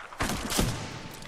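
Sniper gunfire in the video game Titanfall 2, a couple of sharp booming shots in quick succession with a thudding tail, loud and close.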